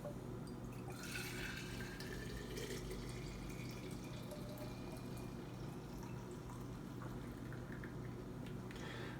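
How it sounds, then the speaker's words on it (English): Homemade walnut milk is poured into a 32-ounce jar, giving a faint, steady liquid splash and trickle that runs without a break for about nine seconds, with no talking. "I've got my lid ready for my 32-ounce jar. We're going to pour it in."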